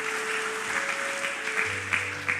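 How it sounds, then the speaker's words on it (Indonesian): Congregation applause during a church sermon, a moderate, continuous clapping from the crowd with a steady hum of room noise underneath. "Tepuk tangan paling meriah buat Tuhan Yesus."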